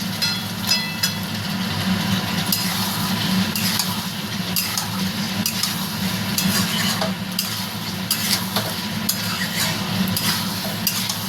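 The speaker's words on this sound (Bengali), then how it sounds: "আলুগুলো দিয়ে একটু নেড়ে নিলাম" Potatoes are stirred into a cooked spice paste seasoned with cumin powder in a pan, soft frying hiss under a steady low hum, with rhythmic spatula scrapes and clinks recurring throughout, close by and unaccompanied by talk.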